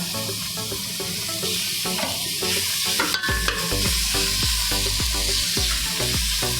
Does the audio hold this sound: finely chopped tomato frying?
yes